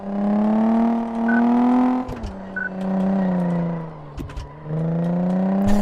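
Sporty car in Car Mechanic Simulator 2014 accelerating repeatedly, the engine note climbing then dropping at gear changes several times, loud and close with no talk over it.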